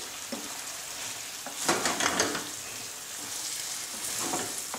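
Gnocchi with clams and zucchini sizzle steadily in a pan over low heat, with a louder burst of hissing and soft stirring in the middle; there is no talking.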